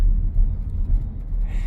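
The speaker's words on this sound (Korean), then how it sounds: "RPM이 치솟으면서 엔진 소리가 많이 들어옵니다." Engine of a Chevrolet Trailblazer revving under acceleration, heard from inside the cabin as a steady low rumble with slight rises and road noise.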